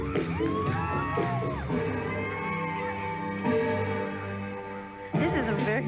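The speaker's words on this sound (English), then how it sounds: "The crowd is really getting into the music." An arena crowd at a 1998 LSU vs Florida women's gymnastics meet whoops and yells along with the floor music, their cheers rising in bursts while a voice talks over them.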